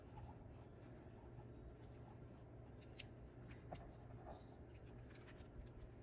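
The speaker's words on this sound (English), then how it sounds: "I am going to go around my paper clip." Pencil tip scratching steadily around the edge of a paper clip laid on paper, a soft continuous scribble with faint ticks, close and quiet with no talking.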